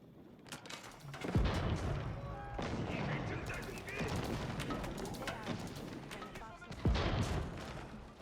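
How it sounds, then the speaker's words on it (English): Bombard cannon fire aimed at mangonels in a real-time strategy match, heavy booming blasts over continuous battle noise and clatter, with a commentator talking throughout. "The bombard sniping the Mangonels"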